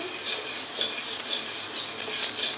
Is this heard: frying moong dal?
yes